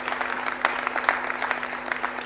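An audience at a mayor's New Year wishes ceremony in Montélimar claps in a steady, moderately loud round of applause with a constant electrical hum behind it.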